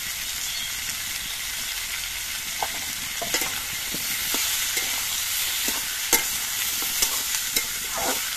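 Vegetables and drumsticks fry in a pan for neem shukto, giving a steady close sizzle broken by soft, irregular scrapes and knocks as they are stirred.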